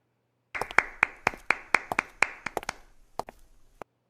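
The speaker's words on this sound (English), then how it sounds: "there was one person clapping" One person claps alone at a sparse, socially distanced town hall rally, about fifteen sharp hand claps in a steady rhythm that loosens and fades toward the end, close and clear over near silence.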